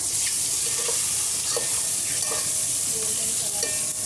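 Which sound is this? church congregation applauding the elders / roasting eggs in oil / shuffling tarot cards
roasting eggs in oil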